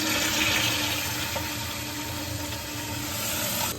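A Richmond 406 toilet tank refills after its water supply is reopened, a steady rushing, hissing flow of water close by that holds for several seconds with only slight changes, no voices.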